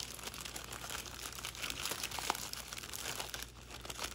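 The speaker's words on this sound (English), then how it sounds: "I'm gonna go ahead and pop it into a plastic bag" A plastic bag is handled around a small cactus pot of lava rock to seal it up, giving continuous soft crinkling and rustling up close, with one sharper crackle midway and no talk.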